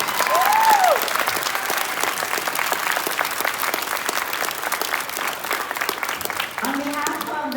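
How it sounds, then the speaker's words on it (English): Audience at a spring band concert applauds the band: a loud, sustained wash of clapping throughout, with a brief whoop near the start and a voice speaking faintly toward the end. "Let's give them another big round of applause."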